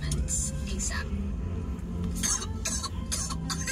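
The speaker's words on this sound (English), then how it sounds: "Why'd you get me right when I was coughing, though?" Several short rough coughs in bursts at a social gathering where people were smoking, mixed with people talking and background noise.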